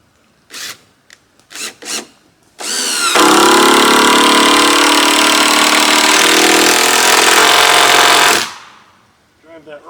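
A power driver sinks a 6-inch screw into the wall of a goat barn under construction: a few short clicks and bursts, then one long, loud, steady whirring drive lasting several seconds before it stops.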